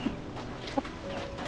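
Chickens in a coop, a couple of short, soft clucks rising faintly above a steady background of outdoor noise, with no voices heard.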